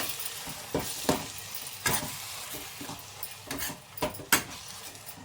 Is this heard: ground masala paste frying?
yes